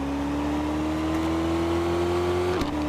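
Steady synthetic engine drone of a BMW M4 launching in a drag race in the Car Parking video game, a continuous tone rising slowly in pitch before a brief drop like a gear change near the end, no talk.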